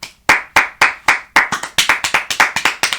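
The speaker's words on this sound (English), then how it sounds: "So let's clap it up." A small group clapping together, about a dozen sharp claps that start sparse and quicken into a steady, fairly loud rhythm, with no talking, at a baseball gathering.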